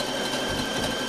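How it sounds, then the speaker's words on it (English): A sewing machine stitches fabric stripes together along a skunk-style hoodie, its needle running in a steady, fast mechanical chatter that stays close and even throughout. "you can just start sewing all the way down"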